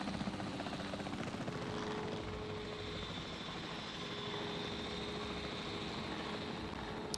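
The capture team helicopter in the video game Jurassic World Evolution 3 gives off a steady, loud rotor and engine drone that holds constant throughout, with no talk over it.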